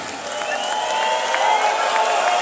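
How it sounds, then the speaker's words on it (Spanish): An audience at a PolyMarchS event in San Pablo del Monte applauds and cheers the crew, making a steady, dense wash of clapping and crowd noise with a few whistles that swells slightly and holds throughout. "Un fuerte aplauso para el crew de Polimarch."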